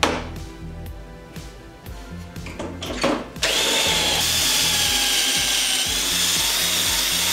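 A power drill drives screws into wooden sign pieces, opening with short clicking bursts and then settling into a loud, steady whirring run that lasts to the end.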